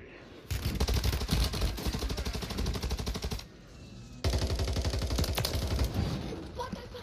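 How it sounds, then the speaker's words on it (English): Machine gun fire rattles in a video game battle, two long rapid bursts of evenly spaced shots, close and loud, separated by a short pause, with no talk. "Who the hell's shooting at me?"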